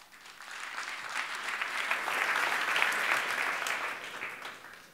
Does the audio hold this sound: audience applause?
yes